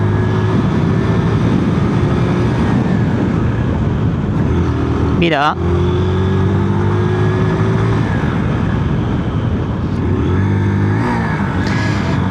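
Drift L 125 motorcycle with a CBS combined braking system during a brake test: a loud, steady engine drone throughout, with a sharp pitch swoop as the engine revs and drops midway and a shorter rev near the end, while someone talks.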